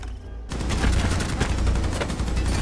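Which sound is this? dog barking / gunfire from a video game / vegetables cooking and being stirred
gunfire from a video game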